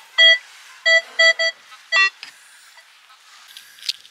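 Nokta The Legend metal detector giving a series of short, sharp electronic signal tones while searching near a bench, several beeps in an irregular rhythm, close and loud, followed by faint rustling.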